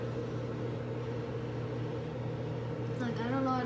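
A microwave oven runs with a steady electrical hum while making plasma inside, the drone constant and fairly quiet, with a brief warbling buzz rising near the end.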